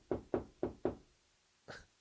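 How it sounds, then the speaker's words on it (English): A pet dog barks four times in a quick, evenly spaced burst, fairly close and loud, followed by a short pause and one fainter, higher yelp or bark. "My dog's barking."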